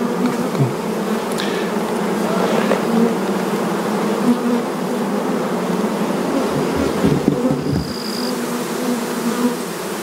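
A dense, steady buzz of many honey bees in a full hive hums continuously, close and loud, with no voices.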